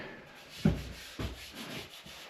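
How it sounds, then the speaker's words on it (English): A scraper rasps across raised spots of dried drywall mud on a wall during a tiny house remodel, with two distinct scraping strokes followed by softer rubbing, close and fairly quiet. "You just go around and lightly scrape that off, and then we'll add the next layer of mud on this."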